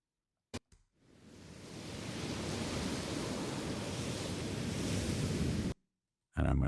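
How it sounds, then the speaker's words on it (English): Ocean surf effect for a documentary edit fades in from quiet to a steady broadband wash of waves, holds for several seconds, then cuts off abruptly, with no talking. "So the wave noise is coming in first."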